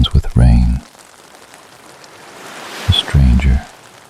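Gentle rain on an Italian coast falls as a soft, quiet hiss, with a voice talking over it at the start and again near the end.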